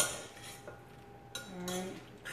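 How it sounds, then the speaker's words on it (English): A utensil stirring a pasta salad in a bowl, close clinks and scrapes in a few short bursts, with a faint ringing tone between strokes and no talking. "let me go ahead and give it a stir"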